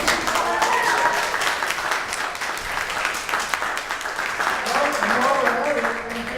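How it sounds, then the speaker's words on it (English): Lively clapping from an audience gathered at a Modesto campaign barnstorm, loud and sustained, swelling again toward the end, while voices and cheers mix in over the hands. "give yourselves a round of applause"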